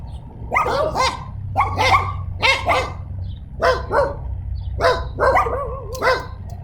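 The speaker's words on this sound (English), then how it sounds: "Sorry about the dogs barking." Several dogs bark repeatedly near a martial arts class, with sharp yips and barks in uneven bursts over a constant background rumble.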